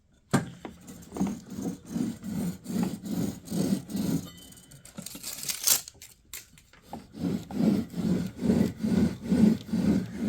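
Idler pulleys on a worn Husqvarna mower deck give off a loud rhythmic scraping, rasping roughly twice a second in even pulses, with a brief irregular break in the middle before the steady grinding cycle resumes.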